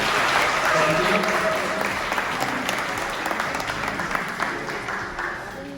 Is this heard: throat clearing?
no